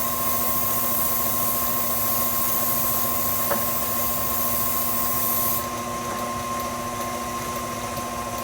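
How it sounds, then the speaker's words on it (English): Cooking spray hisses onto a fluted baking pan while it is coated for a pound cake: one steady, close, continuous spray lasting several seconds that ends abruptly, with no talking. "So you spray the sides well, you spray your corners, you spray the flute very, very well, even the top of it."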